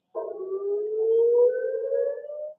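An air raid siren in Israel during a ballistic missile attack sounds a single rising, steady wail for a couple of seconds, clear and alone before it cuts off.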